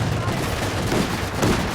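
Gunfire in the strategy game Company of Heroes 2 forms a dense, continuous crackling roar of shots with no clear gaps, loud and steady throughout.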